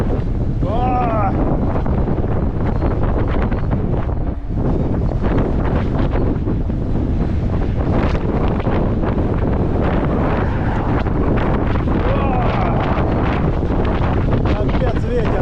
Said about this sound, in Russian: Ого, ветер!